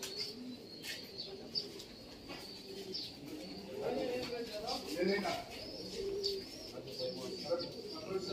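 Pigeons cooing softly among other bird chirps, with faint background murmur of people talking.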